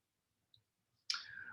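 A single sharp computer mouse click, close and clear, preceded by a faint tiny tick and followed by a soft hiss of room noise, with no speech.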